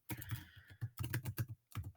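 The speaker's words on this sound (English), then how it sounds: "Now, as I type away, I can fill those in quite quickly." Rapid typing on a computer keyboard while entering names into a Google Sheets spreadsheet, with bursts of close, crisp keystrokes separated by short pauses.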